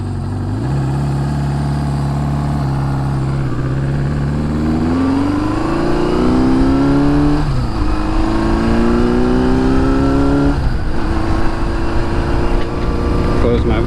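An old motorcycle, unridden for 40 years, idles loudly near 1,000 RPM after firing back up, then revs in rising pulls that drop back, a steady close engine drone with a voice talking over it.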